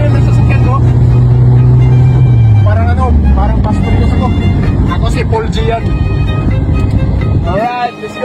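A pit bike engine revs loudly nearby, its pitch holding and then falling away as it slows, while someone talks over the running motor.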